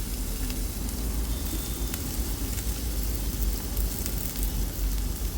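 Ginger garlic paste, chopped onion and curry leaves fry in hot oil, giving a steady, close, dense sizzle and crackle that runs evenly throughout with no talking.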